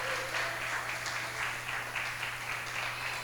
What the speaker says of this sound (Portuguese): dá um glória a Deus e aplaude a Ele bem forte aí